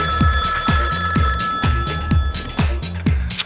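A mobile phone ringing loud and close with a repeating electronic ring pattern of short pulses, heard on its own.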